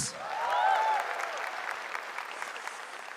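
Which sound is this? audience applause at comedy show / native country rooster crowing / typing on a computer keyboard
audience applause at comedy show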